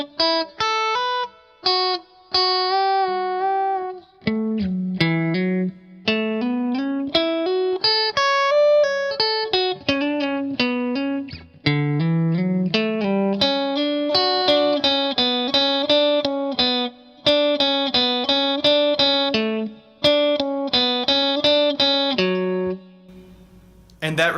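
An electric guitar with distortion slowly plays the riff, a melodic line of clear sustained notes with short gaps between phrases, close and alone for most of its length.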